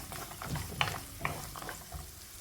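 Shallots, slit green chillies and dal sautéed in a pan for chicken biryani, giving a soft, faint sizzle with a couple of sharp stirring scrapes.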